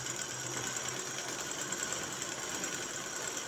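A sewing machine stitches a shirt sleeve along its edge, a faint, steady whir running evenly throughout.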